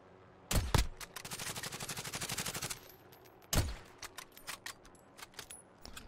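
Two sharp, loud Kar98k sniper rifle shots in the Modern Warfare video game, several seconds apart, each followed by a rapid metallic rattle of bolt cycling and gear clatter.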